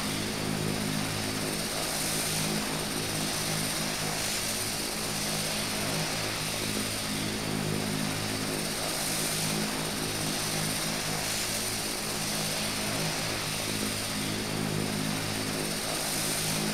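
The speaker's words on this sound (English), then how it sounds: "Clear for takeoff, runway 7" A propeller aircraft in the Prepar3D v4 flight simulator roars steadily during takeoff, with loud, unbroken engine drone and airscrew hum throughout.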